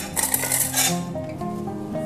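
Used dishes, pots and cutlery clatter and clink together as they are gathered up and carried to the sink in a home kitchen, a dense run of close metallic knocks and chinks that thins out toward the end.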